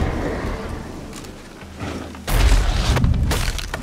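A grapeshot bomb detonates in The Witcher 3 with a sudden, loud low boom about halfway through, then a rumbling burst and debris thuds that follow, with muffled game background before it.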